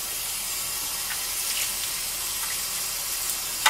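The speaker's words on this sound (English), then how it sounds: "Rinse the hands." Tap water runs steadily into a sink while hands are rinsed, a constant hiss with a few faint splashes and a small knock at the end, no talking.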